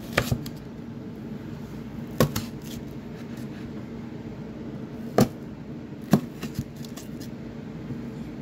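A knife cuts a peeled onion in half on a board in a home kitchen. A few sharp, separate taps and clicks ring out over a steady low hum, with no talking.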